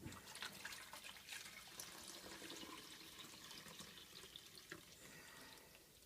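Demineralized water poured from a container, a soft continuous trickling and splashing nearby, faint and steady, without speech.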